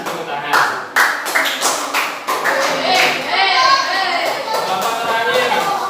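A classroom group, many of them children, clapping hands in scattered, uneven bursts that start sharply and then settle into steadier applause, with children's voices chattering over it.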